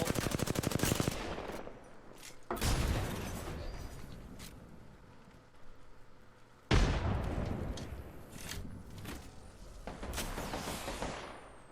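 Bursts of automatic gunfire from a multiplayer shooter video game, loud rapid volleys in several clusters with brief pauses between, sharp clattering shots over a constant background.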